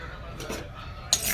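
Moong dal being roasted in a pan, stirred with a metal spoon: soft scraping and clinking of utensil against the pan, with a brighter clink near the end, all close and fairly quiet.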